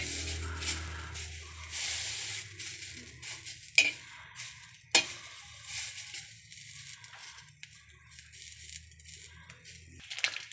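Eggs and three leftover eggplant pieces frying in a pan for breakfast, a soft sizzle with stirring scrapes and a few sharp utensil clicks, close and fairly quiet.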